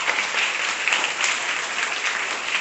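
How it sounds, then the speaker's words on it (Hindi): Parents and guests at a school report and award distribution ceremony clap together in dense, steady applause that holds at an even level throughout, with no voices over it. "एक बार जरूर इन सबके लिए ताली बजा दीजिए।"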